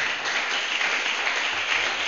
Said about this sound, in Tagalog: Pwede ba natin bigyan ng masigabong palakpak ang ating Diyos ng buhay?